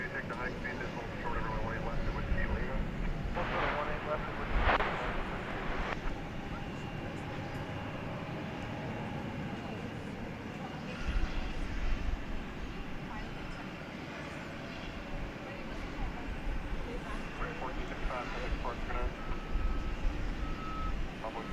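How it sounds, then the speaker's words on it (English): An Airbus A321 jet arriving from Phoenix rumbles at DFW Airport at night, a steady, moderate engine roar with airport beeps and a brief burst of noise early on. "It's flight 3232 from Phoenix, an Airbus A321."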